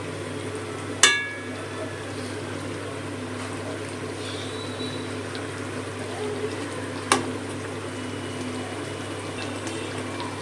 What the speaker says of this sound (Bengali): এটা ফুটতে শুরু করেছে, পটলগুলো এবং আস্তে করে দিয়ে দিলাম।